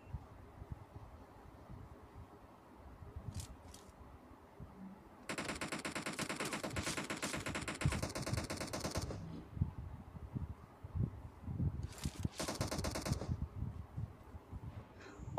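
Bursts of automatic rifle fire in a PUBG Mobile battle, an M16A4 and M762 in use: a long sustained volley for about four seconds, then a shorter burst later, over quieter rustling movement and scattered single shots.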